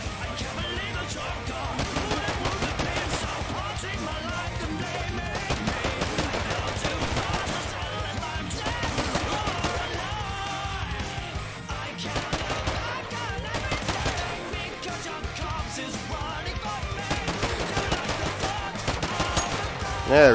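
Gunfire in the oGaT battle royale video game, a scout-style gun firing in rapid bursts and near-continuous volleys throughout, with a person talking over the shooting.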